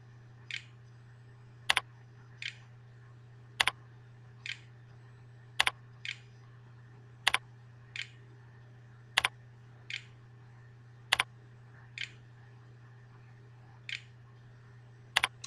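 Single keystrokes tap on a computer keyboard at a steady, evenly spaced pace, roughly one sharp click per second, heard alone over a constant low hum with no talking.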